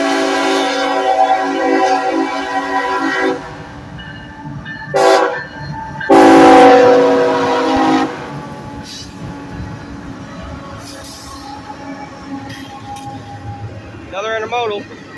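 A northbound CSX intermodal freight train passes on the Henderson subdivision, loud and close, with a long rumbling roll of railcars and two strong horn blasts partway through, then a quieter rumble with brief voices at the end.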